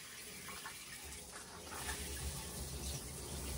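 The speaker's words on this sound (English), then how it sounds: "So let's turn on the shower," Shower water running steadily as it warms up, a soft continuous hiss and splash that grows slightly louder, with no talking.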